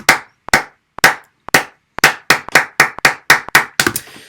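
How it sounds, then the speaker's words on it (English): Recorded hand claps played back, about a dozen sharp, close claps spaced roughly half a second apart, with slightly uneven timing and the last few bunching together near the end. "these are my claps. Let's just play it one more time."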